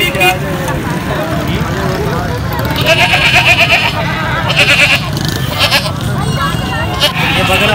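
Goats bleat several times at a busy livestock market in Korangi, rising over steady crowd chatter and background traffic noise.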